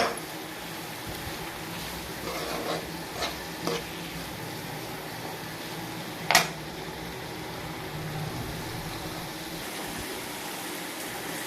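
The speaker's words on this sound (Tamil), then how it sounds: "இது நல்லா வதங்கிட்டு இருக்குது" Banana flower with onion, garlic and chili sautéing in hot oil gives a steady soft sizzle, with a few scrapes of stirring and one sharp clink near the middle.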